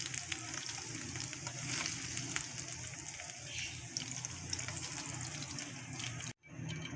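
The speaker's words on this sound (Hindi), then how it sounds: "और इसको थोड़ा सा हीट देते हैं। और चिकन को इस सॉस के अंदर ट्रांसफ़र करते हैं।" Chicken sizzling as it is moved into hot teriyaki sauce in a pan, a steady crackling fry with scraping and stirring, then a brief cut near the end.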